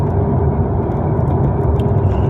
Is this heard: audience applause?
no